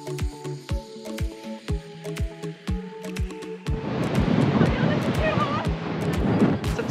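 Sea waves wash in over a windy Devon shoreline, a steady broad rush of surf after a stretch of clicks and taps close to the microphone.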